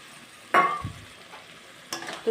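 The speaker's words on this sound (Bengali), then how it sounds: "চিকেনটা দেওয়ার পরে গ্যাসের আঁচটা একটু বাড়িয়ে আমি কষিয়ে নেব" Small pieces of chicken cook in spice paste over raised heat. Two short bursts of spatula scraping and a sizzling stir stand out against an otherwise quiet background.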